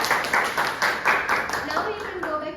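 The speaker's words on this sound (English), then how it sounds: "Everyone please give an applause." Brief classroom applause for students who just presented, rhythmic clapping under a teacher's voice talking over it.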